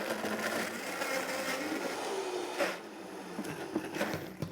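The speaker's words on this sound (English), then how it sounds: "blend this down in high-speed blender till it's creamy, rich, and slushy cheesecake-like" A high-speed blender whirs steadily and loudly as it purées a creamy vegan summer drink until slushy. The motor drone holds even, then eases and changes pitch near the end as the mixture thins, with no talking.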